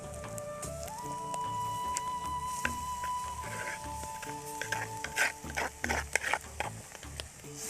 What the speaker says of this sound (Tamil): இதை நல்லா கிளறி விட்டுக்கிடுவோம்